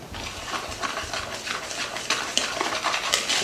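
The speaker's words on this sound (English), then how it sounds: "Now you're going to whisk this together." A whisk beats blueberry muffin batter in a bowl, producing rapid rhythmic clicks and swishes against the sides, close and steady with no talking.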